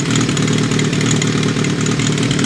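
A 2005 Kawasaki ZRX 1200R with TMR-MJN carbs idles steadily after its first start, a loud, even, close mechanical rumble with a dense low-frequency throb throughout and no speech.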